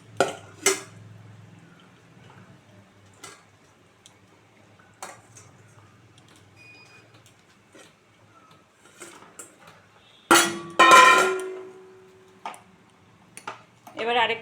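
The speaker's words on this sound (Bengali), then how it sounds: "এখন আমি এই ভাজা মাছগুলো ছেড়ে দেব।" Pieces of fried katla fish go into a pot of simmering potatoes, in a Bengali home kitchen. One loud burst of splashing and sizzling comes near the end, after scattered ticks and clinks of utensils.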